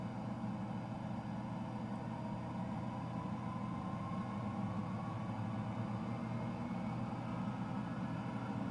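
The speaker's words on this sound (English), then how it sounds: "Overall, I think the start sounds and the engine sounds in general on the aircraft are quite nice." F-14 Tomcat jet engine starting up in Microsoft Flight Simulator, a steady low rumble with a faint rising whine as the engine spools up, continuous and even, no talking.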